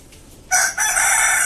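A rooster crows loudly and close by amid a flock of chickens in a winter coop, its long call breaking in after a quiet start and holding to the end with a brief dip partway through.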